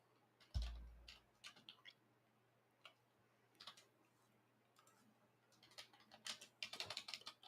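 Light, quick keystrokes on a computer keyboard come in irregular bursts, quiet and close, with one dull thump near the start and a faster flurry of clicks toward the end.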